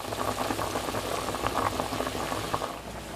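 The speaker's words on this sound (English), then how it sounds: "They'll boil in the beer for a few minutes until the brats are done" Bratwurst boiling in beer with onions in a pot on the stove, a close, steady bubbling and popping simmer with small crackling bursts throughout, no voices.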